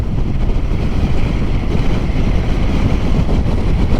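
Strong, steady wind roar buffeting a helmet while riding a Zero electric motorcycle, a continuous loud rush with no engine note and no talk.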